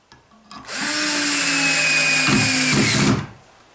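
A power drill drives screws in a shed, spinning up abruptly into a loud, steady whine that holds for about two and a half seconds with a brief strain near the end, then winds down.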